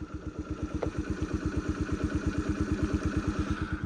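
A Honda Dio AF-62 49cc carburetted scooter engine idles close by with a fast, even putter, raised slightly above a stalling idle, and no voices are heard.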